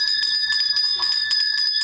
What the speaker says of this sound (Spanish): Toque la campana, me dice.